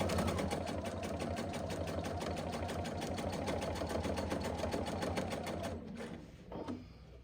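A sewing machine runs continuously while binding a quilt, humming steadily at close range with no voices, then slows and stops near the end with a few faint handling sounds.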